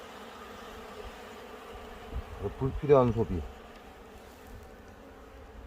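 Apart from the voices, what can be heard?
Asian honeybees buzzing in a hive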